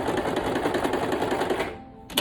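Sewing machine running steadily as it stitches a washable fabric face mask, a dense rapid needle clatter that stops near the end, followed by a short knock.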